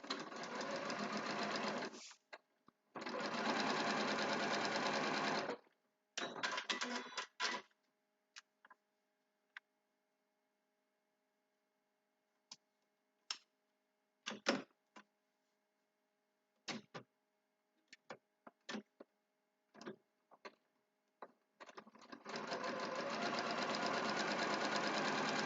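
An Elna 720 Pro sewing machine stitches fabric under a clear straight presser foot, running in long, steady, loud whirring bursts separated by pauses and scattered light clicks and taps.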